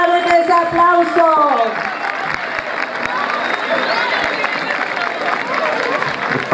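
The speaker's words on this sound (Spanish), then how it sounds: "fuerte, fuerte ese aplauso" Crowd applauding with cheers at an outdoor Argentine bicentennial independence celebration in Las Palmas, loud and sustained, with a tonal voice or music trailing off in the first seconds as the clapping continues to the end.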